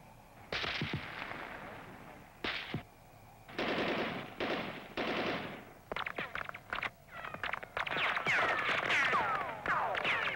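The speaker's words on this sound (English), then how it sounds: "the two terrorists are eliminated by machine gun fire from the protected guard position" Machine gun fire from a protected guard position during a nuclear facility security test, staged against attackers at the outer perimeter barrier: loud repeated bursts of automatic fire, some near and some farther off, with brief pauses between the volleys.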